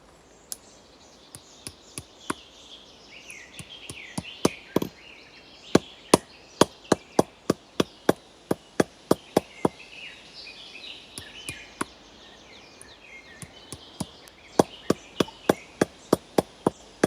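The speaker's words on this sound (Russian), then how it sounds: "я решил вытащить гвоздь и прибить ветку, которая будет держать пленку по всей длине и не даст ей вырваться" A hammer drives a nail to fix a branch holding plastic sheeting in a dry forest, many sharp wooden knocks in uneven bursts over seventeen seconds, close and loud above a steady insect buzz.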